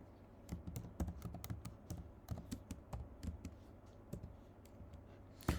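Rapid, irregular keystrokes on a computer keyboard as Flutter code is typed, clicks close and steady with a slightly louder tap at the end, alone with no talking.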